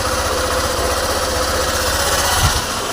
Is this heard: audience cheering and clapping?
no